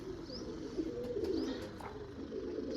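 Pigeons cooing softly in a loft, low repeated coos with a few faint chirps over a steady background hum.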